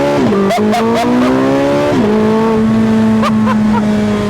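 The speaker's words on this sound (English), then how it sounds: "I will now give it full throttle from 0 kilometers per hour" A Porsche 918 Spyder accelerating from a standstill at full throttle gives a loud, close engine roar that climbs in pitch, drops briefly at a gear change and climbs again, with short exclamations from a voice over it.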